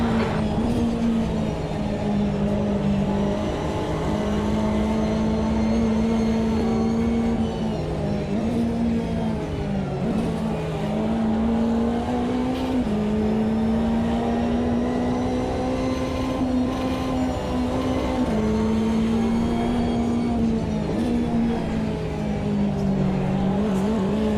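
A race car lapping Road Atlanta in the Automobilista 2 racing game, a loud continuous engine drone that rises and falls through gear changes and corners, heard alone.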